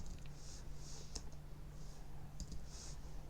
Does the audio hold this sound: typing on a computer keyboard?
yes